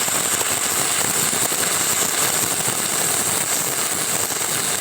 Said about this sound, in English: For 60-10 in the flat position, try a circular motion and angle the rod to build up weld.